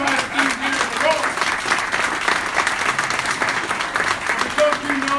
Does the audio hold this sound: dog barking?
no